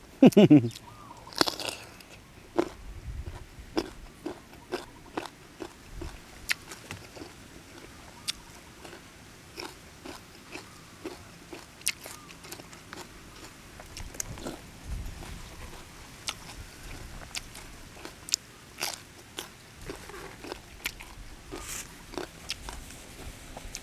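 Someone eats crunchy mango dipped in fermented fish sauce with shallots, making close, repeated crisp bites and wet chewing in an irregular rhythm over a quiet background, with a sharper crunch at the start.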